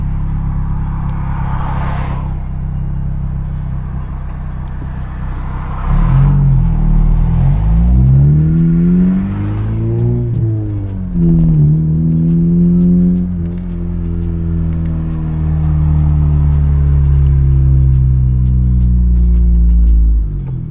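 A tenth-generation Honda Civic Si with a PRL V2 intercooler accelerates hard on a pull, engine drone sweeping up in pitch through gears with brief dips at shifts, loud and continuous from inside the car.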